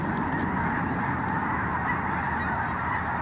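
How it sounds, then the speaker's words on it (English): A flock of geese honks continuously at a distance beside a fishing spot, the calls overlapping into a dense, steady clamor with no voices, as the flock takes off. "Oh, do you hear that? I'm closer to the geese flock."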